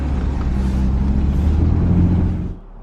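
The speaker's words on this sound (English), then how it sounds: "BMW is going on the trailer." Close, steady low engine rumble from a BMW car while it is pulled onto a trailer, holding even for a couple of seconds and then dropping away abruptly to quiet near the end, no speech.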